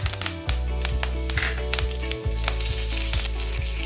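Mustard seeds and curry leaves sizzle and crackle steadily in hot oil with sharp pops and spatters, close up, no voices.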